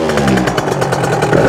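A motorcycle engine idles close by with a fast, even pulsing beat, loud and steady throughout.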